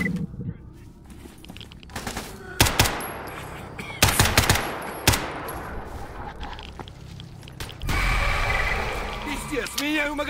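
Gunfire in the shooter game Stalker GAMMA, with several sharp shots and short bursts spread across the clip, loud and close, over a constant ambient rumble and game noise.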